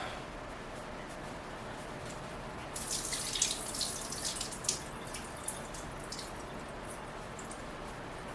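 Liquid from canned green beans draining into a sink, a soft splashing pour that begins midway and trickles on at moderate volume.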